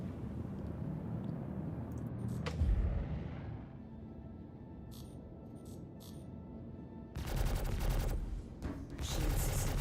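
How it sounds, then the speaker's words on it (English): Small size 1-2 ship guns firing in Star Citizen, bursts of rapid shots at moderate loudness separated by quieter rumbling gaps, with a louder volley near the start and again toward the end. "this is taking forever with these little size 1-2 guns"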